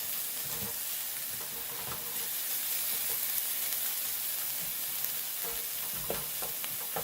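Onions soften and brown in a pan, giving a soft, continuous sizzle with light scraping stirs at irregular moments throughout.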